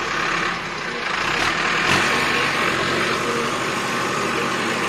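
A tractor engine runs steadily at idle, with a close, loud, continuous rumble and a slight swell in level partway through.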